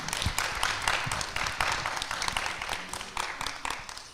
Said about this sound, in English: Y'all clap it up for that.